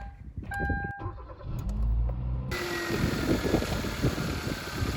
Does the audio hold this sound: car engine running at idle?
yes